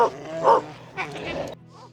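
Sled dogs bark and yip close by in quick, loud bursts over a steady low rumble, the barking stopping abruptly near the end.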